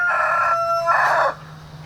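A homestead rooster crows loudly and close by, one long drawn-out call that breaks partway through and then trails off, with no talk over it.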